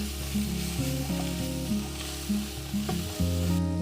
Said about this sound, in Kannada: ಇವೆಲ್ಲವನ್ನು ಮಿಕ್ಸ್ ಮಾಡಿಕೊಂಡು ಫ್ರೈ ಮಾಡ್ಕೋಬೇಕು